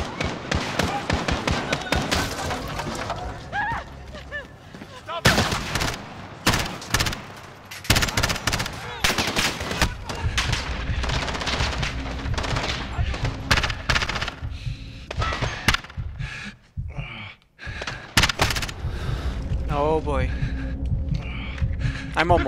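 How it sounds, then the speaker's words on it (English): Loud rapid gunfire from Call of Duty: Modern Warfare on Realism difficulty comes in dense bursts of sharp shots. The shots are mixed with explosions and low booms, and brief quiet gaps come between exchanges. "The gunshots, of course."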